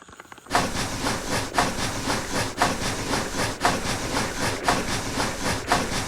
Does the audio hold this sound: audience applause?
no